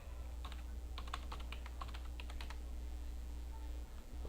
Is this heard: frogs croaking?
no